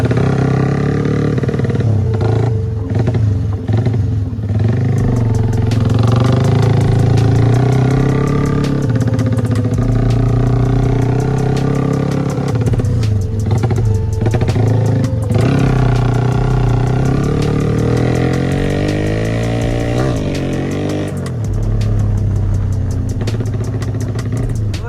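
A Honda CB motorcycle on a test ride toward Baturaden, its engine droning loudly and steadily up close, with wind rush and slight swells in revs throughout.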